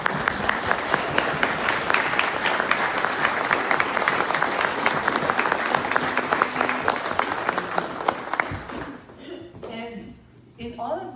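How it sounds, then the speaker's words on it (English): A keynote audience at an International Women's Day interfaith event gives committee members a long, loud round of applause that fades after about nine seconds, followed by brief quieter room sounds. "Let's give them a applause."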